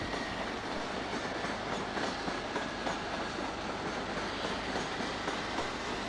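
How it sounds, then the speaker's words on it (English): Intercity 125 HST diesel train in Intercity Executive livery departs Edinburgh Waverley station, a loud steady rumble of engine and wheels on rail that continues throughout with no voices. "Intercity 125 HST, sporting the original Intercity Executive livery, departs with what is presumed to be a London King's Cross to Aberdeen working"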